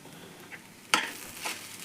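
Sabudana khichdi sizzles and is stirred in a pan on the stove, with a soft continuous fry, a sharp scrape of the spoon near the middle and further scraping after it, close and fairly quiet.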